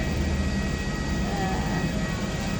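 A large airliner sits at Puerto Princesa airport in Palawan, its engines giving a constant broad roar with a thin high whine on top. A voice is heard faintly under the noise.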